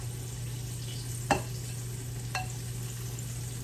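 Cabbage frying in a pan at home, a steady low sizzle with a couple of sharp scraping stirs, close and fairly quiet.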